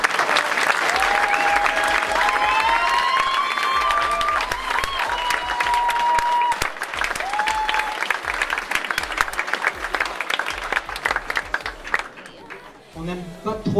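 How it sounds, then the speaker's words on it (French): Sustained applause from an audience at a product launch event for a new 3D printer, steady and loud for about twelve seconds with some whistling and cheering, then thinning out as a voice begins speaking at the end. "on peut les applaudir"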